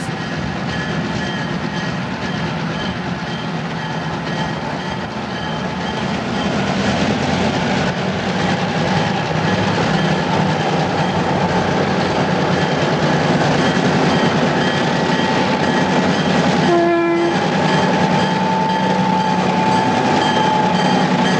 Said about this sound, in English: There's 87 coming at Lehigh Gap. Notice that he has a caboose on each end.